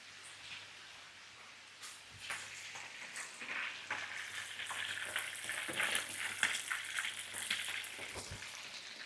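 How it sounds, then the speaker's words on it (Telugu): Country chicken spattering and crackling as it fries in a pan, a steady dense sizzle with scattered sharp pops that grows slightly louder over time, heard alone at moderate level. "అది ఇట్లా చిరుకులు పడతా ఉంటాయి"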